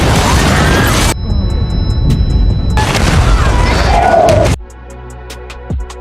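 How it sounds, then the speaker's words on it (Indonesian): In a war film scene, a tank shell hits a building and sets off a loud, heavy booming explosion with crashing debris, while narration runs over it. "Tetapi tiba-tiba sebuah tank menembak gedungnya"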